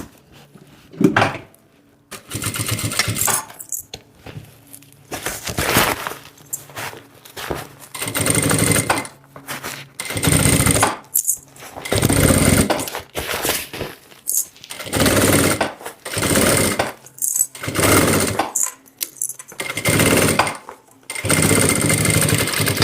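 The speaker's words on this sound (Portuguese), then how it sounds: "agora eu vou costurar do outro" Sewing machine stitching the second side of a thermal bag, running in short loud bursts with pauses between them, each run a steady mechanical chatter close by.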